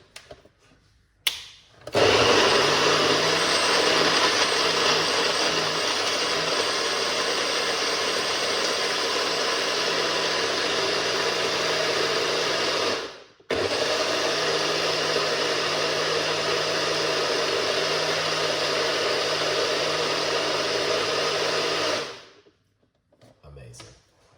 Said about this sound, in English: Let's blend up this one right here.